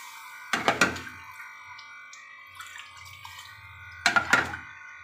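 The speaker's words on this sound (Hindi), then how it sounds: "मसाला भून गया अब इसके अंदर पानी डाल दूंगी" Water poured from a vessel into a pot of fried masala while making pulao, two short splashing bursts with a quiet pause between them, close and clear with no talking.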